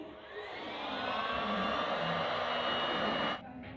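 A dryer blows a steady, moderately loud rushing hiss over water-based screen printing paint, rising slightly at the start and cutting off sharply near the end.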